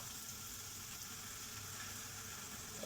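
Water splashed into a hot frying pan while cooking a high-protein meal, giving a steady, even sizzle and hiss close by that runs unbroken throughout, with no talking.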